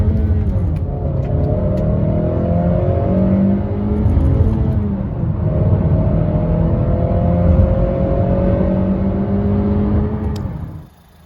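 Honda HR-V ESi 1.5 VTEC engine pulling hard from a standstill toward 120 on a motorway slip road, a steady cabin drone with rising engine tones through the gears, continuous and fairly loud until a sudden cut at the end.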